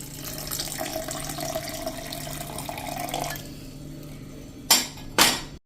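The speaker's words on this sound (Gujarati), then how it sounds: "અત્યારે હું પાણી નાખી દઉં છું" Water poured into a blender jar for kokum sherbet, a steady running pour lasting a few seconds, then stopping, followed by two sharp clinks of the jar or lid.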